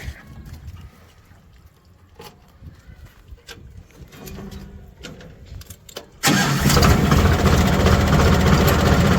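A tractor engine on a village farm kicks in abruptly partway through, running loud and steady after a stretch of quiet background with scattered knocks and faint voices.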